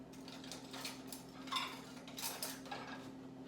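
A fork clinks lightly against a bowl while mixing spices for oven-fried chicken nuggets, a few soft, irregular taps and scrapes, quiet and close, with no talking.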